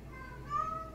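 A cat meows in a faint, drawn-out call that rises slightly and holds steady over low background noise, with no voices over it.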